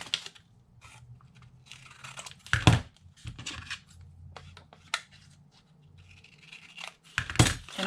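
Scissors cut through the paper overhang at the top of a handmade Easter basket, giving irregular snips and rustles with two louder crunching cuts, close by and with no talk.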